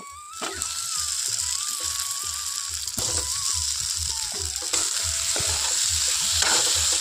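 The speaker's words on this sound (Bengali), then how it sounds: "জল দিয়ে খুব ভালো করে মশলাটাকে কষিয়ে নেব" Spice paste frying in a pan sizzles steadily while a spatula scrapes in a regular back-and-forth rhythm, close and continuous throughout.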